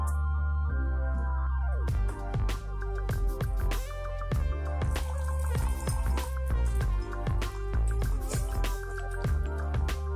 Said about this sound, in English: Third, pour hot water into the glass.